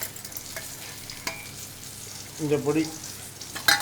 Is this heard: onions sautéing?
yes